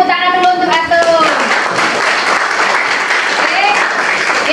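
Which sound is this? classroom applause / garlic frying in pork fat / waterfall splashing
classroom applause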